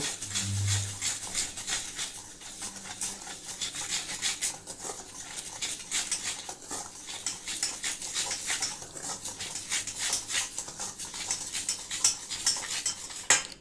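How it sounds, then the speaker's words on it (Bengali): A spoon stirs rice-flour pithe batter for kheer patishapta, with a pinch of salt added, in a bowl. The scraping and clinking are close and rhythmic and run on continuously without talk. "এবার এটাকে ভালো করে আগে একটু মিশিয়ে নেব।"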